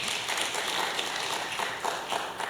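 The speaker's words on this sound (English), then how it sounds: "If you're Zionist and not clapping for Nachman Shai, you don't know who Nachman Shai is." An audience applauds for Nachman Shai, a newly appointed dean and former minister, at a talk on Zionism and liberal Jewish education: dense, steady clapping from many hands that fills the short moment.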